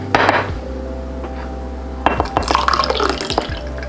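Homemade water kefir with fruit pieces is poured into a glass, a close splashing fill in two bursts with clinks of glass over a steady low hum.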